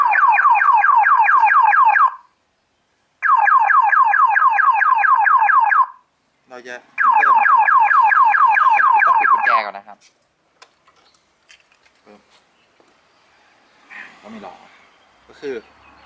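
A modified car anti-theft alarm blares a loud rapid warbling siren in three long bursts separated by short pauses, followed by quieter clicks and beeps, with someone talking afterward.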